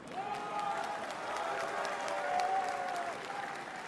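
An audience at a political rally in a large concert hall, the Zénith in Lille, claps in steady, dense applause for several seconds, moderately distant with a faint voice over it.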